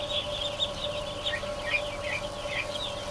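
Ducks inside a barn give a steady stream of high, chirpy peeping calls, fairly faint and overlapping over a low background rumble, with no one talking.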